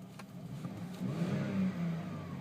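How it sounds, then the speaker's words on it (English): Engine and exhaust burble of a 2008 Mercedes C300 heard from inside the cabin, a low steady hum that swells slightly in the middle, quiet and with no talking. "And you can hear some with the exhaust burble, which is quite pleasant actually."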